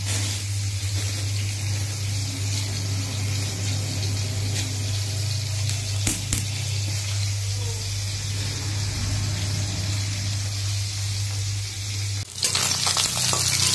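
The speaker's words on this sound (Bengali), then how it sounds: "দেখো, মাছগুলো ভাজা হয়ে গেছে" A steady, loud hiss of shing fish frying in oil fills the whole clip, over a low hum, with a couple of brief clatters.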